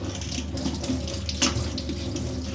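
Tap water pours steadily into a kitchen sink while utensils are washed, a continuous close splashing rush with faint clinks and knocks of dishes.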